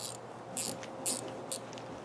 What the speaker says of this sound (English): These are ratcheting wrenches, by the way